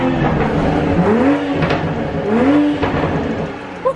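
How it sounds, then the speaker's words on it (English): A stock 2021 Toyota Supra MK5 with a 3.0 engine and stock exhaust, in sport mode, revs with rising engine sweeps and rumbling burbles, loud and close, two revs in a row with a small pop at the end. "Check out these burbles, guys, for a stock car, stock exhaust."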